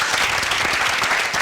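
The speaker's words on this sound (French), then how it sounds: "Bonjour, Monsieur Saodogo, on va l'applaudir" Dense, loud applause from a crowd welcoming a guest on a television talk show, continuous and close with no pauses.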